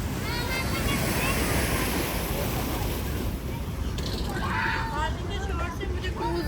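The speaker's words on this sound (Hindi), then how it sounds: "पानी का तो बहुत ही ज़्यादा वो है, शोर है" Loud rushing water churns continuously alongside a boat near New York City, mixed with wind buffeting the microphone, while people talk over it.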